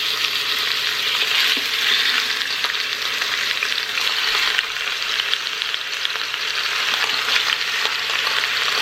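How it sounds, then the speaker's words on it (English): Pieces of cut meat sauteing in olive oil in a pan for a crockpot dinner, a steady loud sizzle and crackle of frying close up throughout, with occasional faint stirring and no talking. "take those pieces that we cut up and go ahead and saute them"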